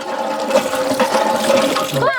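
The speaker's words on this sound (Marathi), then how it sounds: "वहिनी हापसा करा पाणी प्यायचंय" Water gushes continuously from a hand pump in a steady, loud splashing rush close by, with a voice briefly heard at the end.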